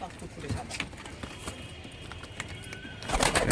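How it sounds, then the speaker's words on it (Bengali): Pigeons in a loft where racer and other breeds are kept, soft low cooing and rustling close by under someone talking, with a louder burst of activity at the end. "পুরো গরম পায়রা আছে বন্ধুরা দেখুন"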